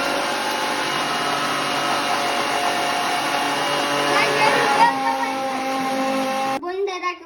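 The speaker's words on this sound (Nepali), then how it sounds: "मिक्सरमा घुर्रा" A kitchen mixer grinder whirring loudly and steadily while chilli and salt are ground for chutney, cutting off abruptly near the end, followed by a brief voice.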